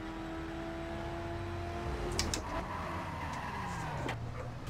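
Racing-game car engine in The Crew with nitrous boost, a steady loud drone with a sudden rising whoosh surging midway and shifting pitch toward the end, no talking.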